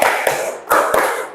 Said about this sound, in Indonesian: tepuk tangan untuk kelas 6